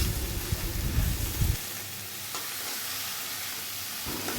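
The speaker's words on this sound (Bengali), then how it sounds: "এই পর্যায়ে আমি আলুতে দিয়ে দিব কেটে রাখা অনেকগুলো টমেটো" Loud stirring and scraping of small potatoes frying in a pan for an egg curry, then a softer steady sizzle after chopped tomatoes go in, heard up close with no voices.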